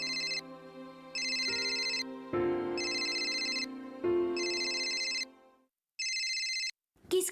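A house telephone rings in repeated electronic bursts, loud and near, with short gaps between rings and a final brief chirp at the end; no one speaks.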